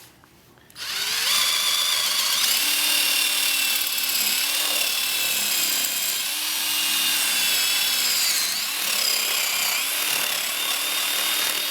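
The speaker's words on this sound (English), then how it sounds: "I'm going to start my drill at an angle because we're going to want this to round off." A power drill bores at an angle into hardwood for a homemade conduit bender, whirring loudly after a brief quiet start and grinding on steadily with slight pitch shifts as the bit cuts, with no talk.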